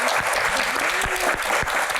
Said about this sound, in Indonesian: Tepuk tangan dan semangat buat Pak Tahir